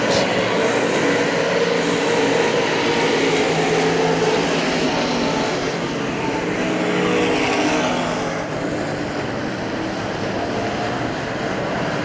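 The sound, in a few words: race cars at Hagerstown Speedway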